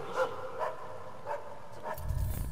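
Dogs used by guards in the video game Assassin's Creed Chronicles: China, barking in about four evenly spaced short barks over a steady background, followed by a louder rumbling burst at the end.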